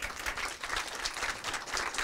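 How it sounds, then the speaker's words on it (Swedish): Applause at a Swedish release event for school software, a steady broadband patter of many hands clapping that keeps up evenly for the whole two seconds at fairly low volume, with no voices standing out. "en stor applåd."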